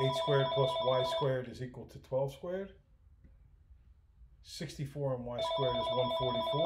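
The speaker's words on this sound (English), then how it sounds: "Sorry about the phone." A telephone rings clearly at the start and again near the end, with someone speaking over and between the rings.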